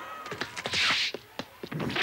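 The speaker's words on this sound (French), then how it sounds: "La partie reprend, le score est de 10 à 8 en faveur de Lorient. Jeanne Azuki au service" A volleyball struck hard on a serve during a match involving Lorient: a run of sharp, close thumps and slaps, with a louder burst of impact noise near the middle.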